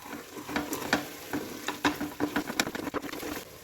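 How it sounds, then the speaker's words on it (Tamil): Spoon or spatula scraping and stirring a biryani masala in a hot pan, with soft sizzling underneath and a steady run of clinks and scrapes at close range. "இந்த மசாலாவெல்லாம் சேர்த்துட்டு நல்லா மிக்ஸ் பண்ணிடுவோம்."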